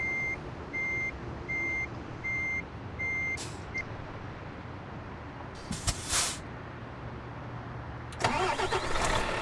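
A truck engine stalling in Euro Truck Simulator 2, with a repeating reversing beep at first, then a few short bursts of engine noise and a louder rough rumble toward the end.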